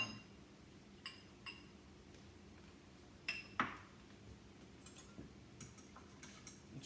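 A utensil stirs a slurry of half a teaspoon of cornstarch and half a cup of wine in a glass vessel, giving faint, scattered clinks and taps at irregular intervals over a quiet background.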